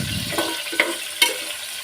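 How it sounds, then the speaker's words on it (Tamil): Vegetables sautéing lightly in a pan for a rice and dal lunch dish, a soft brief sizzle with a couple of sharp scraping or tapping hits of a spoon. "கொஞ்சம் லைட்டாக வதக்கி விட்டுட்டு அதை அப்படியே விட்டுருங்க."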